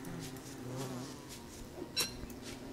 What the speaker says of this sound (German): Mal gucken, wie die Bienen da reagieren. Na, ich höre die jetzt schon wieder.